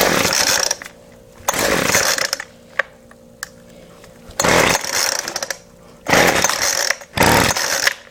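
A Weed Eater Featherlight FL25 string trimmer engine being pull-started, heard as four loud, rough bursts of cranking, each about a second long, separated by near-silent pauses, with no speech.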